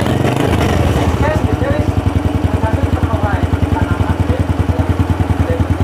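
A Honda Grand motorcycle engine idling after a kick-start, with a knocking clutch housing; a steady close putter with a regular pulsing beat, while someone talks over it at the start.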